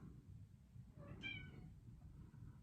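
A cat meows once through a closed door, a short muffled cry rising and falling over a steady low room hum, faint and somewhat distant.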